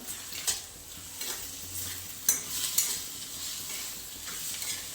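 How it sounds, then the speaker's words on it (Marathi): Paneer bhurji with butter being sautéed in a pan over a full flame: a steady, soft sizzle with occasional louder scrapes and stirs, close by and alone without talk. "आता हे दोन ते तीन सेकंद आपल्याला फुल गॅसवरतीच परतून घ्यायचे"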